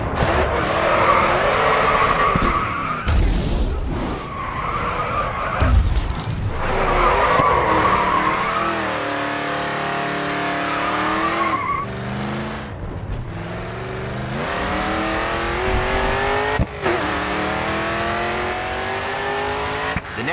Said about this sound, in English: Let's see a drift. Well held and good speed.